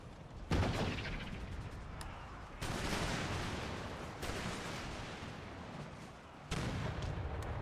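Musket volleys and artillery fire in Empire Total War, dense crackling gunfire rolling continuously with several sharp louder volleys breaking in, a distant battlefield roar.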